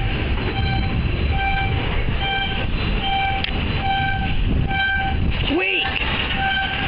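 Wheeling & Lake Erie freight train with covered hoppers on an Ohio line, a steady rumble of rolling cars with clanking and brief wheel squeal throughout, loud and close, with a short spoken exclamation.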